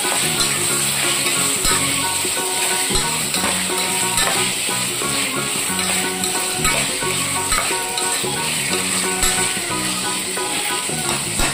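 Chicken stirred and cooking in a hot pan, a loud, dense sizzle and hiss running throughout with repeated scraping and light clatter from stirring, no voices.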